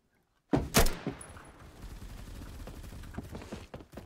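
Gunfire in a shooter video game: a sharp loud shot or two at the start, then quieter scattered pops and clatter continuing in the background.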